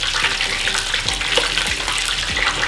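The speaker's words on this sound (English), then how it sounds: "place your wings back inside of it to do a double fry" Chicken wings in a second deep fry churn in hot oil, giving a loud, dense, continuous bubbling hiss with no pauses.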